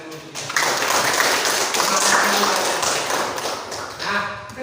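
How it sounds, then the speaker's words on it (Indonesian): Students in a classroom clap their hands after finishing group presentations, a steady burst of moderate clapping lasting a few seconds. "Sekali lagi kita tepuk tangan dulu."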